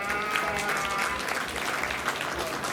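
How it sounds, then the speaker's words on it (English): Audience applause at a youth sheep show at the Lycoming County Fair, a steady round of clapping through the whole stretch, with some voices audible over it. "Let's give them all a round of applause once again"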